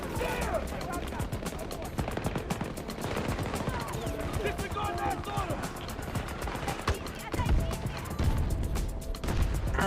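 Rapid automatic gunfire in a shooter video game, a dense, loud stream of shots with explosions and mechanical clatter, while a player talks over the action.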